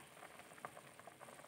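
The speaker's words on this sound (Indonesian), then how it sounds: "Ini sudah mau mendidih ini." A pot of water with goat meat, bay leaves and lime leaves nearing the boil, giving a faint, steady bubbling and soft popping patter, close and quiet with no talk.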